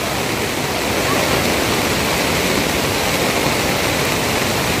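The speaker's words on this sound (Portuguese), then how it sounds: "O negócio é complicado aqui na ponte. Muita água, né, Rael?" Floodwater rushes over a bridge in a dense, continuous roar of churning water, loud and close, with no break across the few seconds.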